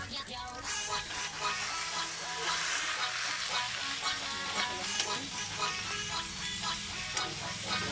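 Pakbet meat frying in a pan until golden brown, a steady loud sizzle and crackle throughout with stirring scrapes mixed in.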